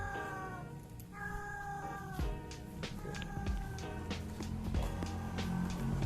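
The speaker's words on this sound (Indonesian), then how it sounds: "Kenapa nih kucing mau berantem?" Two cats about to fight inside a house, trading drawn-out, wavering meows and low caterwauling growls, close and fairly quiet, with a few clicks and bumps around them.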